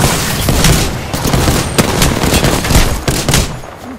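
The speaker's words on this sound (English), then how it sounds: "Taking fire." Gunfire in the video game Apex Legends, loud and close, with dense rapid automatic bursts and sharp individual shots overlapping in a sustained barrage.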